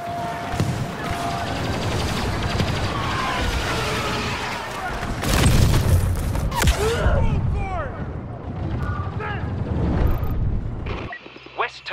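A turbo laser is destroyed during a First Order battle in Star Wars Battlefront II, amid dense continuous gunfire, blaster bursts and a heavy explosion. Voices speak over the din before it cuts off abruptly.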